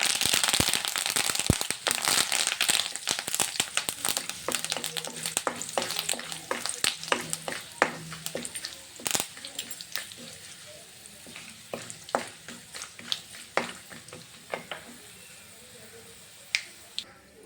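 Curry leaves crackle and spit in hot ghee in a Telugu home kitchen, a dense run of sharp pops over steady sizzle that loosens into scattered crackles later on, with no talking.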